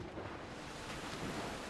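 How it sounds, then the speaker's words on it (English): Swimming in The Legend of Zelda: Skyward Sword HD brings a steady wash of water and surf-like rushing noise, fairly soft and continuous for a brief moment, with no voices. "Oh, just swim, Link."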